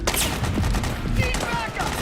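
Gunfire in the video game Metal Gear Solid 4: dense, continuous bursts of shots crackle throughout, loud and close, mixed with shouted voices.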